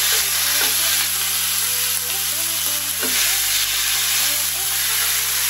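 Marbled Japanese black wagyu sukiyaki sizzles loudly and steadily on a hot plate, a dense continuous frying hiss with occasional stirring scrapes and no talking.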